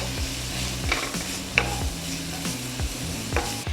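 Kimchi and onions frying in oil in a cast iron pan, with a steady sizzle under repeated stirring and scraping, a few sharper clinks of a utensil against the pan, close and moderately loud throughout.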